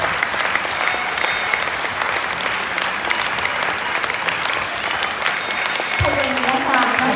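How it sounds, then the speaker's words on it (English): Loud, continuous applause and cheering for beauty pageant contestants at a national final, with music rising in near the end. "Let's give them a big, big hand, big round of applause"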